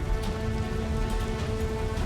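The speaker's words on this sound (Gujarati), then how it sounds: "બરડા ડુંગર પર ધોધમાર વરસાદ પડતા" Heavy monsoon rain in Gujarat pours steadily in a dense, even wash of hiss and patter, constant and fairly loud, without voices.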